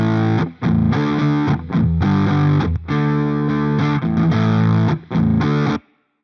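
A heavily overdriven electric guitar through an IK Multimedia Amplitube 5 overdrive pedal plugin plays loud, sustained distorted chords and notes in several phrases, separated by short breaks, before ringing out to silence.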